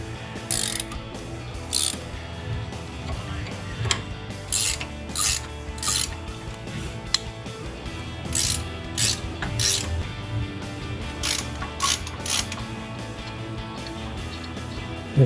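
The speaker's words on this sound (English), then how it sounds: "Next, I'm going to remove these 4 bolts on the back." A hand ratchet works on four bolts on the backing plate of a Jeep Wrangler JK, with close, loud bursts of rapid clicking repeated through the clip and short pauses between strokes.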